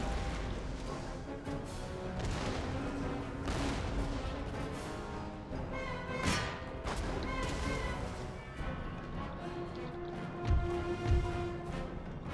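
Cannons fire canister shot in a battle of the strategy game Empire: Total War, giving a string of sharp crashing blasts and smashes over a dense, busy battlefield din.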